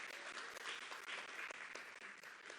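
An audience claps for a community effort that fed over 30,000 people, a dense, even patter of many hands that is faint and distant, with no voices over it.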